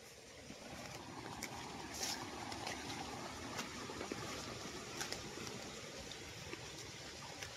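Small creek on farm land flowing steadily, a soft continuous wash of running water with faint trickles, quiet and unbroken, with no voices.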